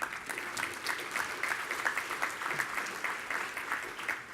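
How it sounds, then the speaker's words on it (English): An audience at a security conference plenary gives steady applause for the general chairs, an even, sustained clatter of many hands clapping throughout. "yeah, applause."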